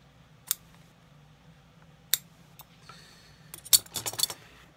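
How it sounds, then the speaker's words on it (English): Canvas liner inside an Allen Edmonds cap-toe shoe being cut to remove the toe cap; a few sharp, isolated snips spaced apart, then a quick cluster of clicks and cuts near the end, quiet and close. "We're gonna cut that to take that toe cap off."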